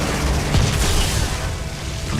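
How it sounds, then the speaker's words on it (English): Thermal Bomb explosions from the Pyromancer in the Outriders video game: heavy booming blasts with crackling debris, a loud thump near the half-second followed by rolling, rumbling detonation noise. "If an enemy dies while under the effects of Thermal Bomb, they'll rise into the air and explode in a gory mess"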